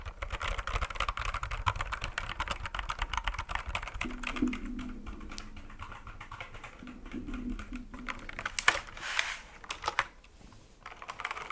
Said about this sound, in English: Is the trigger you are thinking of keyboard typing?